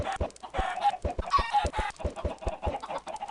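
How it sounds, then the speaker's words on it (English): Chickens in a Minecraft-style server game clucking in a dense, busy flock: rapid overlapping clucks and squawks with steady rhythmic thumps underneath, close and fairly loud, with no talking. "Chickens galore."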